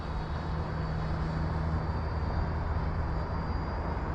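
Freewing T-45 Goshawk 90mm RC jet plane flying at half throttle, giving a steady, continuous whooshing jet roar at fairly constant loudness with no voices.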